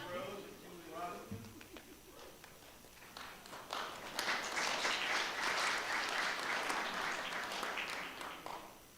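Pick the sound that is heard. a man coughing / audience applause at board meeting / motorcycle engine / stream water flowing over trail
audience applause at board meeting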